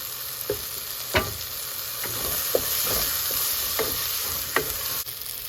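Tomatoes sautéing in a pan for Bombay chutney, with a steady bright sizzle and several sharp scrapes of a spoon stirring through the mix, heard alone and fairly close.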